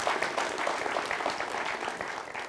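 A large audience at the Los Rios Fall 2015 college convocation applauds in a steady, dense wash of clapping that holds evenly throughout and eases slightly toward the end.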